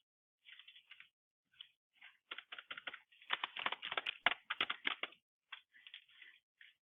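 Rapid bursts of typing on a computer keyboard, clustered keystrokes with short pauses between runs, close and fairly quiet with no voices.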